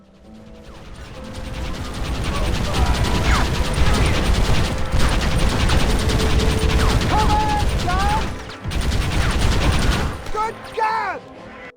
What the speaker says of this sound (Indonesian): pistol tak pernah kepanasan, menghasilkan suara dentuman maut yang menggelegar